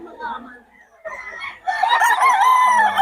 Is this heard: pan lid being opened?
no